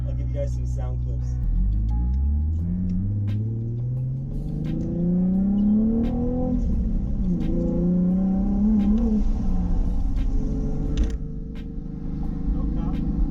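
A Nissan 370Z with a freshly cleaned exhaust idles, then revs and pulls away, the engine note climbing and dipping through several throttle swells as it drives, loud and close throughout.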